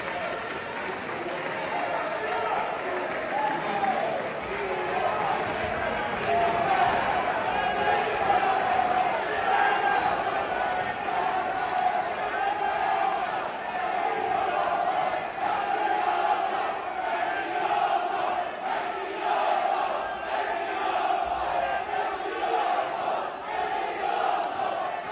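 A large crowd at the Colombian Congress shouts and boos in a dense, sustained roar, a steady wall of voices with no clear pauses and no single speaker standing out.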